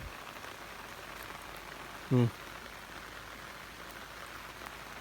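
Light rain falls over a durian orchard in a steady soft hiss and patter, and a voice cuts in once, briefly and close.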